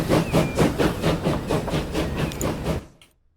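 A train in Transport Fever 2 passes under a low bridge, giving a loud rhythmic chuffing with steam hiss and rail clatter, steady pulses for nearly three seconds before cutting to silence.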